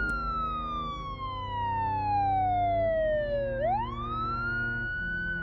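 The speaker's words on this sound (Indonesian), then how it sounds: "tiba-tiba ada suara sirine ambulans yang meraung-raung kencang banget." A loud ambulance siren wails steadily, its pitch sliding slowly down and then sweeping back up, with a low vehicle rumble underneath.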